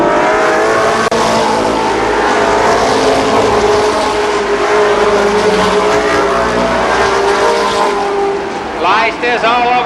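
Stock cars race at Columbus Motor Speedway during a late-laps event, several engines droning loudly and continuously as they circle the oval, with a sweeping pass near the end and a commentator talking over the roar.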